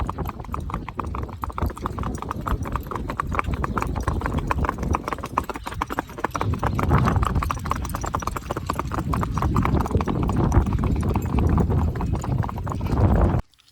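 Hooves of a mare clip-clop steadily along a road on the way home, loud and close for the whole stretch, with a heavier, busier patch of steps partway through.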